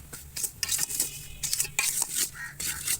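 A ladle scrapes and clatters repeatedly through semolina roasting dry in a pan for laddu, giving close, rhythmic bursts of metallic stirring over a faint sizzle.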